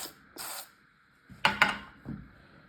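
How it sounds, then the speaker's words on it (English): An aerosol smoke-alarm test spray gives a short hiss, then after a pause two quick sharper spurts, with light plastic clicks and handling noise around them in a quiet room. "I'm gonna do the test and spray, honestly."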